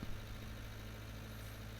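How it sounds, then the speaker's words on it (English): A low-powered tractor engine in Farming Simulator 19 labors uphill at a crawl with a mower attached, a steady low droning rumble with constant vibration and no talk over it. "this tractor's not got masses of horsepower, and we're on a hill here, so it's kind of grinding along at just 4 miles an hour"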